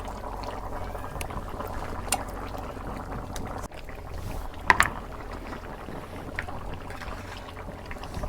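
Beef curry bubbling steadily in a cooking pot, a soft continuous simmering hiss with a few small clinks, no talking.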